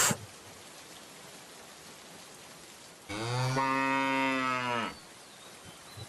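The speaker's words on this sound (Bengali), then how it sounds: "এই রে, গরুটা যে দৌড় দিল, এখন ধরি কেমন করে?" A cartoon cow gives a single long, loud moo lasting nearly two seconds, set against a steady hiss of falling rain that runs through the whole scene.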